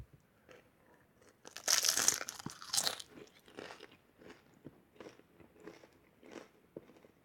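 Crunchy deep-fried corn tortilla chips seasoned with Old Bay are bitten and chewed up close, with a loud snapping bite followed by a string of softer rhythmic crunches.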